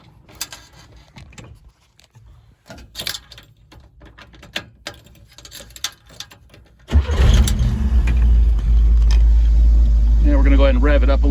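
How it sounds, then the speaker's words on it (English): A car engine cranks and catches at about seven seconds, then settles into a loud, steady idle. Before that come quiet clicks and mechanical fumbling. No one speaks. "So now we're going to go ahead and put the key to the run position and then start it up."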